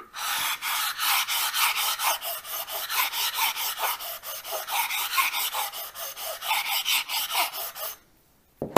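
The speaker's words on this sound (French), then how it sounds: "je vais prendre ma plaque diamantée" A diamond plate rasps back and forth along the edges of a sharpening stone to chamfer the corners, a fast run of even, close gritty strokes that stops abruptly near the end with no talk.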